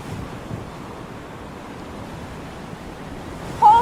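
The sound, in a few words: storm at sea with wind and waves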